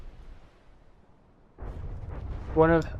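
Nuke missiles detonate in the video game From the Depths: a deep, rumbling blast erupts after a quiet lead-in and keeps roaring, with a voice cutting in briefly near the end.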